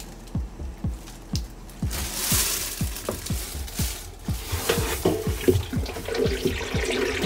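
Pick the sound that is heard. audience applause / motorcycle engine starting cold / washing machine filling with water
washing machine filling with water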